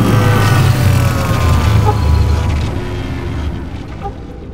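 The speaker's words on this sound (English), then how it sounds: "here is another example of a spaceship passing by" Sci-fi spaceship flying past with Doppler processing: a loud, continuous rumbling drone with a shifting whine that stays strong, then gradually thins and fades toward the end, with no one talking.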